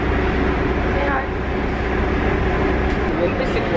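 A subway train ride on a hot day near Battersea station, with a steady, loud rumble of the carriage filling the whole stretch and muffled voices faint beneath it.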